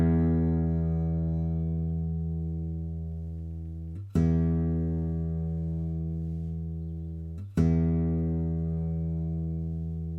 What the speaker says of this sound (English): So let's start with the lowest pitch string nearest your head.